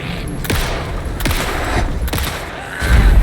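Pistol shots ring out in Alan Wake II, several sharp cracks spaced about a second apart over a dense bed of game noise, ending in a heavier thud.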